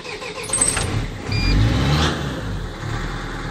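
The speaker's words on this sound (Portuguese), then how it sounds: "Vamos dar partida aqui no carro." A Mercedes-Benz CDI car engine is cranked and catches after a starter motor repair, rising into a loud revving burst near the middle and then settling into a steady close-up run, with no talking.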